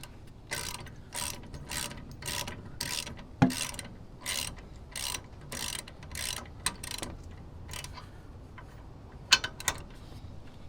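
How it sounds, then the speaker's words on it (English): A ratchet wrench tightens front suspension bolts on a 1985-89 first-generation Toyota, its quick regular clicking runs in steady bursts with short pauses between strokes, close and clear without talk. "And go ahead and start tightening."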